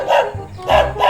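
Several loud, close dog barks in irregular bursts with short gaps between them, some shading into yips, heard outdoors with no talk over them.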